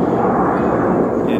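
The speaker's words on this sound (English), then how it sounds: "Those are the Canadian snowbirds, guys." Canadian Snowbirds aerobatic airplanes flying overhead above London, Ontario, make a continuous loud, broad engine roar that fills the whole moment with no break.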